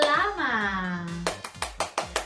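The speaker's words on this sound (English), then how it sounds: "clap hands" After a short spoken or sung vocal, several crisp hand claps ring out in an uneven series, close and distinct.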